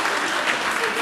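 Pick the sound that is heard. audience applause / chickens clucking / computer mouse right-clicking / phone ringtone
audience applause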